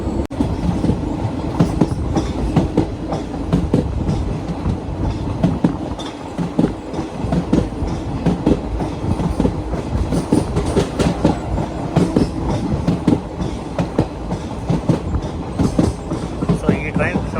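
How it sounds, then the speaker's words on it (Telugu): Aboard the Venkatadri Express between Chittoor and Kacheguda, the running train gives a loud, close, continuous rumble with rhythmic clickety-clack of wheels over rail joints and occasional faint squeals. "ఈ ట్రైన్ సౌండ్ అయితే భలే ఉంటుంది"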